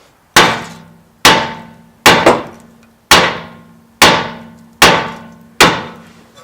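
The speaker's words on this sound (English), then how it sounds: "I've heard people say all you have to do is just hit the knuckle right there and it'll pop the thing out." Seven loud, sharp metallic hammer blows on the steering knuckle of a 2008 Honda Civic during a front wheel bearing job, each ringing briefly, struck at a steady pace of roughly one per second with no talking.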